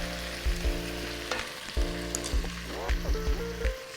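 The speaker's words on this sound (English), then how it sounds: "Keep stirring it around until it's all brown. I don't want to overcook it, I just want to sear it, seal in the flavour." Beef for Hungarian goulash sears in a hot pan while it is stirred until browned, giving a steady close sizzle with occasional scraping knocks against a tonal background sound.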